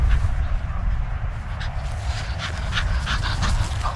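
A dog pants rapidly and steadily close by, the rhythmic breaths continuing throughout over a low rumble of outdoor background noise.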